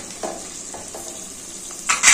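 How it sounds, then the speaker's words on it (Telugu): Mango poha pulihora sizzles in a pan with occasional stirring scrapes, getting louder near the end as the hiss rises. "ఇవన్నీ వేగే వరకు మూత పెట్టేస్తానండి"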